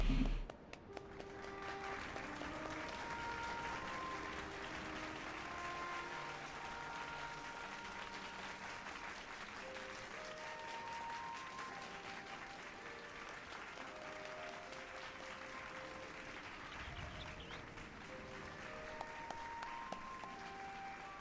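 Characters clapping in Final Fantasy XIV, a long steady patter of game applause over a soft melodic music bed, moderately loud throughout.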